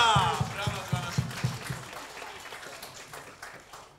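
Applause breaks out at an art exhibition opening for Papcio Chmiel, with a short burst of rhythmic clapping that fades into a softer, scattered patter, mixed with voices in the room.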